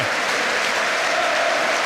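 A stadium crowd at Leicester City's King Power Stadium applauds footballer Kevin Phillips, a dense, continuous wash of clapping at steady loudness with no break.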